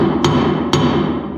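A hand hammer strikes twice, loud and close, the two sharp metallic blows about half a second apart over a low background hum while securing a tarp.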